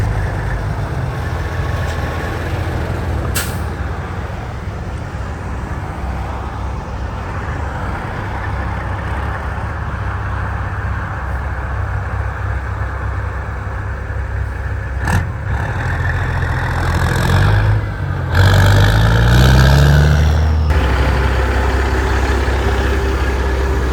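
A hood-stacked Peterbilt pull truck idles with a deep, steady low rumble for a long stretch, swelling and shifting briefly near the end as the engine note changes.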